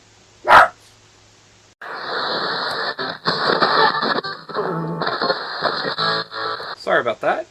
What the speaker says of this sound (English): My dogs decided to go haywire because my kids came home.